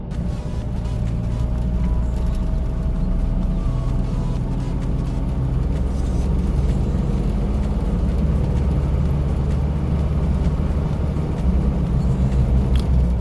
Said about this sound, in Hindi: गाड़ी आराम से स्पीड पकड़ रही है। ली पे है अभी गियर, ये देखें।